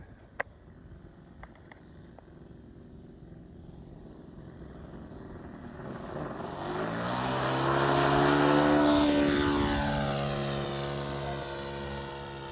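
A PT-19 airplane's engine on its first flight swells from a distant drone into a loud, close propeller roar with a falling pitch as it passes, then fades slightly. No one speaks.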